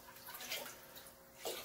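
Water poured by hand into a goldfish pond built from an old hot tub: a short, soft splashing and trickling, with a brief louder pour near the end.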